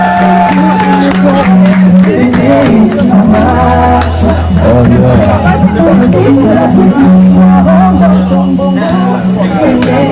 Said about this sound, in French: On applaudit pour ce couple beau